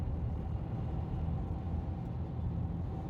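A car engine in city traffic, a low steady rumble inside the cabin with no clear rise in pitch, heard alone at a moderate level.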